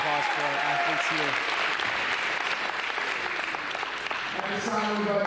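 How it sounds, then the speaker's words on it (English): Audience applause for the athletes at a high school NCAA signing day ceremony, a steady wash of clapping running through the clip with a voice speaking over the start and end. "Another round of applause for our athletes here."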